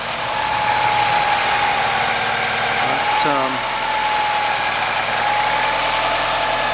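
An Alfa Romeo Twin Spark engine in a 916 Spider, not fully warm, idles with a steady mid-pitched hum and slight hunting, close and continuous, while someone talks over it.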